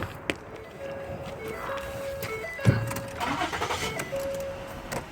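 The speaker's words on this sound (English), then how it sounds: "when I turn on the car" A 2011 Ford Taurus SEL starts up with a sharp crank and catch about halfway through, then settles into a low running engine. Repeated electronic chime tones sound before and after.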